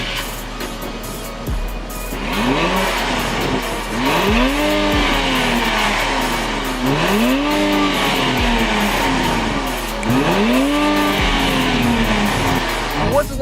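A 2018 Infiniti Q60S Red Sport with a 400-horsepower twin-turbo V6 pulls hard through repeated rising gear runs, each climb cut by a quick shift, loud and close with road noise underneath.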